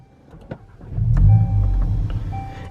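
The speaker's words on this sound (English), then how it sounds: "So, let's start the car." A Volkswagen Golf GTI Mk8 engine cranks after a few faint clicks, then catches and settles into a loud, steady idle close by, with no voices.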